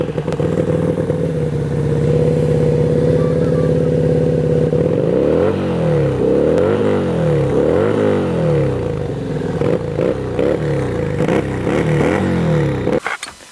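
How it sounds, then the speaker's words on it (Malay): A loud CMC Buccaneer 250i V-twin motorcycle engine idles steadily, then revs repeatedly in sharp throttle blips with a rough, lumpy beat, close by, before cutting off abruptly. "Aku nak belanja bunyi V-twin Daripada CMC Berkannya 250i"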